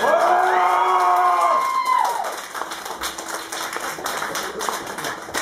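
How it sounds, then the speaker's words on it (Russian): Concert audience at a show in Belgorod: a sustained musical chord rings out and fades, then a wash of clapping and cheering from the crowd continues steadily. "аплодисменты."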